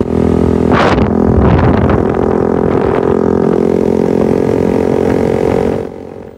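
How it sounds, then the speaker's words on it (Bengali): A motorcycle fitted with an aftermarket exhaust rumbles loudly up close, with a couple of sharp throttle blips early on, then settles into a steady idle before the sound drops off at the end. "প্লাস আমার গাড়িতে ইনস্টল করা ছিল এক্সজস্ট, যদি আপনাদেরকে র সাউন্ডটা শোনাই"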